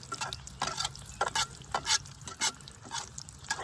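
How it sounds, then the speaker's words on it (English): Eggs frying in grease on a bush pot baking sheet over a camp fire, a close, steady sizzle broken by repeated scraping and stirring strokes, with no talking. "Cook some eggs on the top while they're cooking on the bottom."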